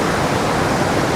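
Vernal Falls waterfall in Yosemite National Park, a dense, steady roar of falling water heard close and loud, with no other sounds.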